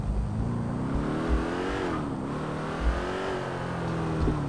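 Video-game car engine revving steadily while driving during a police chase through city streets, a continuous droning roar with pitch rising and falling and a few brief thumps, alone without talk.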